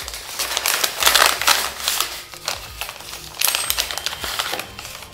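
A small bag from a mystery box is handled up close, giving bursts of crisp plastic crinkling and rustling in uneven clusters, loud and without talk.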